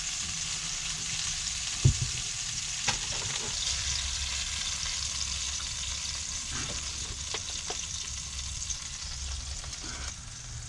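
Burgers fry in a pan at a stealth camp inside a U-Haul, giving a steady close sizzle with a few clicks and knocks of utensils, alone without any talk.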